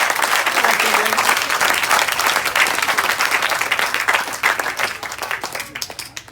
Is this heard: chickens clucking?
no